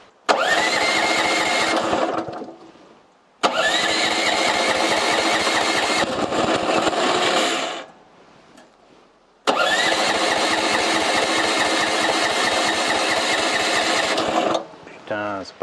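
A Mygale 500 mini excavator's small engine cranks and catches three times in a row, each run a loud, steady buzzing roar lasting a few seconds before cutting out, with brief gaps and a rattle at the end.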